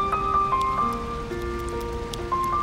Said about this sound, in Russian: а такой дождь зарядил.